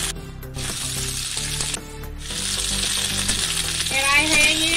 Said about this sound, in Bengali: 5 মিনিট এটা মিডিয়াম ফ্লেমের মধ্যে ফ্রাই করে নেব।